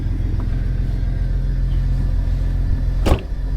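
An off-road vehicle nicknamed the Banana rumbles with a steady low engine drone close by, with a brief louder burst of noise near the end.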